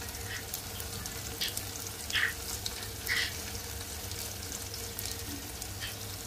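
Onions, tomato, green chilies and ground spices (salt, turmeric, chili powder, roasted cumin) frying in a pan for a Bangladeshi pangas fish dish, a steady close sizzle with a few brief stirring scrapes and no talk.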